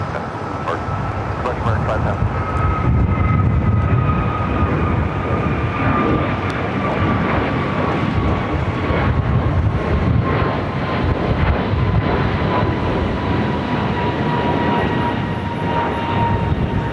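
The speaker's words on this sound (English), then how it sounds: "A321 Neo with American flight" An American Airlines A321neo jet airliner at LAX roars steadily with a loud, broad engine rumble and a slowly falling whine, while wind buffets the microphone and a voice talks intermittently over it.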